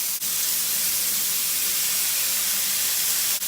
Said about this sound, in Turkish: Terbiyelediğimiz tavukları atıyoruz içine. Aynı ızgara yapar gibi.